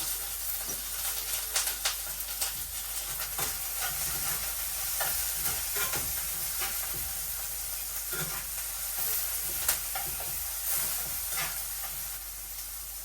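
Chopped onion and green chili frying together in a pan, a steady crackling sizzle with scattered sharp pops and occasional stirring scrapes, close and continuous throughout, no voices.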